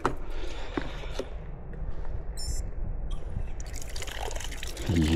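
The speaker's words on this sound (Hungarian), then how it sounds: "Úgyhogy lehet tölteni kulacsokat." Water trickles and splashes from an outdoor fountain while bottles are refilled, a steady liquid dribble running close to the mic with light background noise throughout and brief clatter near the end.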